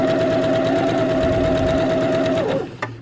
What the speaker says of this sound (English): slide it under the presser foot and carry on sewing